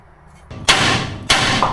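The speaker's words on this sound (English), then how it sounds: "Hit that thing a couple times with a hammer and it'll come on free." Two sharp metallic hammer strikes on a vehicle tie rod during a Dream Beam suspension install, spaced about half a second apart, loud and close with ringing decay and no talk.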